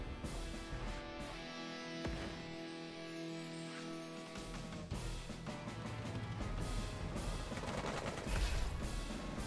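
Sniper attack gunfire in the Advance Wars video game: a dense, continuous crackle of shots mixed with game music, steady and moderately loud throughout.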